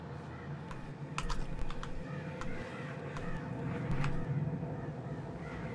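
Crows caw now and then over a steady ambient bed in the Planet Coaster video game. A few scattered calls cut through near the middle and later on, fairly faint and distant, with no one talking.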